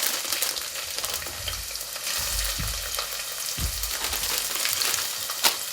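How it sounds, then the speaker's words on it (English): Chopped onions sizzle in hot oil in a pan, a constant hissing crackle with a few soft low bumps from the pan, close and steady throughout. "Then I'm going to add the onions, chopped onions."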